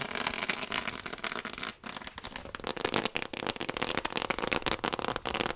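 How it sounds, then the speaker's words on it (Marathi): Dense bursts of firecrackers at a cricket tournament final crackle and pop continuously, loud and close, with a brief dip partway through before the rapid bangs resume. "फटाके चालू होत आहेत"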